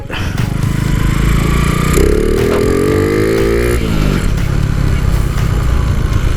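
A Honda Wave 125 with an aftermarket exhaust revs and rasps loudly while riding off-road through a forest, its engine pitch climbing through a hard acceleration then settling, with clattering over rough ground.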